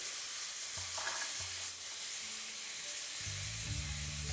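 Charred chicken with lemon and ginger is mixed in a hot pan, giving a soft, continuous sizzle with light stirring scrapes. Low steady tones play underneath.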